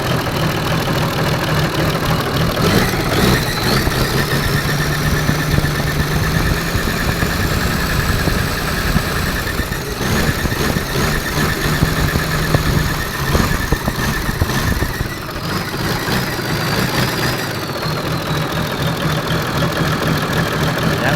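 A car engine idles steadily after a turbo installation, a loud, close, continuous rumble with a faint whistling whine rising and falling over it, and no talk.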